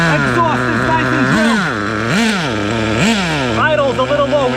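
Traxxas T-Maxx 3.3 nitro RC truck engine with a drilled exhaust, buzzing loud and close as it idles and revs in repeated rising-and-falling bursts, with a voice talking over it.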